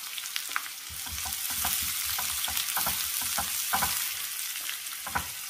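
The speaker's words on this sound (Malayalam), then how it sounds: "കടുക് പൊട്ടിയതിലേക്ക് ഉള്ളി ചേർക്കാം." Onions hitting hot coconut oil with mustard seeds that have just popped, for a bitter gourd and raw mango milk curry: a strong, continuous sizzle with rhythmic stirring scrapes and crackles, close and with no voices.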